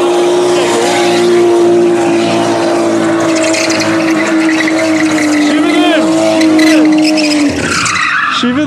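A BMW M2 does a burnout on a foggy November street in Warsaw, its tires squealing loudly and continuously over a steady high-revving engine drone. The squeal falls away near the end.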